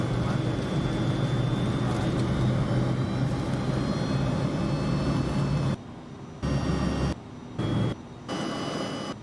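Steady, loud jet engine roar in a Citation CJ4 flight simulator, with whining tones on top. Toward the end the sound cuts in and out several times.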